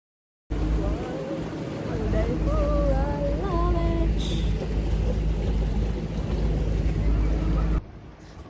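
Motorboat ride on Lake Pichola in Udaipur near the City Palace, with a steady engine drone and water noise running throughout, while voices talk over it.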